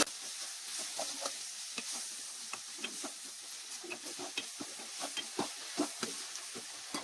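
Chili powder gets stirred into eggplant frying in a pan for vankaya vepudu, a quiet steady sizzle with rapid repeated spatula taps and scrapes throughout.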